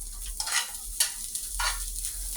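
Dehydrated hash browns fry and brown in a pan, a close hiss of sizzling with three or four bursts of scraping as they are stirred.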